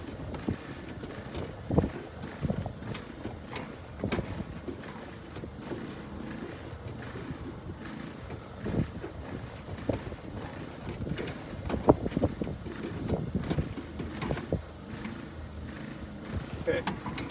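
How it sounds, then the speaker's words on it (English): Breeze buffeting an outdoor microphone at a ground station during a model FPV plane flight, steady low rumbling wind noise with irregular gusty thumps and clicks throughout, no clear talk. "a little bit of a breeze is coming up"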